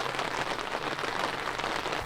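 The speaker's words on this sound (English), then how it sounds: "it's starting to hail, or dropple, or whatever that's called." Hail patters outdoors at a campsite near Ouray, Colorado, a dense continuous ticking and crackling of small pellets striking surfaces close by, fairly soft and steady throughout.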